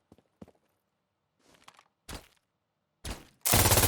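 Suppressed MG3 machine gun in Insurgency Sandstorm: scattered light clicks and handling noise, then short bursts of muffled gunfire growing louder and denser toward the end, with no talking.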